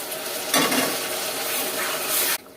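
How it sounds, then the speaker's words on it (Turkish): Tomatoes, onions and peppers sizzle and crackle in a pan as they fry, with a steady, loud frying hiss and scraping from stirring up close. The sound cuts off sharply near the end. "Domateslerimiz de biraz kavruldu ama daha da kavrulacak."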